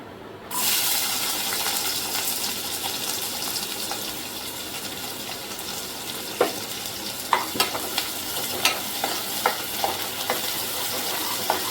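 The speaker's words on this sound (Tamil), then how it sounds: "நல்ல சின்ன வெங்காயம் வதக்கிக்கோங்க" Small onions sauté in a pan after fennel seeds have crackled. A dense sizzle starts abruptly and stays steady and close, later broken by a series of sharp spoon clicks and scrapes against the pan.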